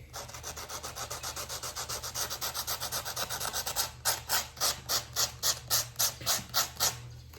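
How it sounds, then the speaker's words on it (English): Close, raspy back-and-forth scrubbing of a small sanding pad over tile mortar on a pedestal mount, quickening to a steady rhythm of distinct strokes. "Little sanding pad."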